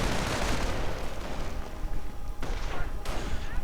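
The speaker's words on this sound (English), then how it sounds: "Mortar fire." Mortar fire in a real-time strategy game match, a veterancy-upgraded mortar firing at a faster rate, heard as dense continuous booms and bursts of gunfire with a couple of sharper impacts near the end, loud and unbroken throughout.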